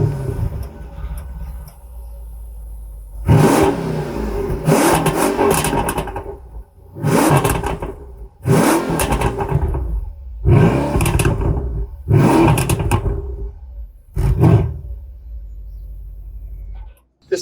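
A Mercedes S63 AMG Coupe C217 sits idling with a deep rumble, then its engine is revved in six or seven loud, roaring bursts with a booming exhaust note, each dropping back to idle between.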